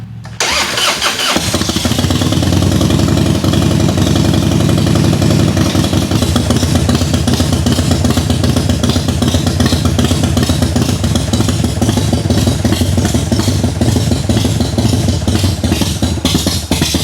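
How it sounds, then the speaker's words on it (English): A Harley-Davidson EVO motorcycle engine with new lifters and adjustable pushrods cranks briefly, catches and settles into a loud, steady, lumpy idle with mechanical clatter, close by and running alone throughout. "Okay, turn the ignition on, turn the gas on"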